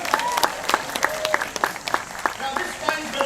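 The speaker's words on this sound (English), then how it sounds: "bask in their welcome applause" Crowd applause with distinct individual claps popping out of a thinner wash, uneven and close, while voices call out over it.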